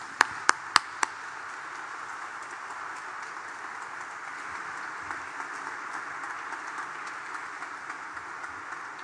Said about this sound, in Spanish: Pónganse de pie aplaudiendo a nuestra Madre Santísima.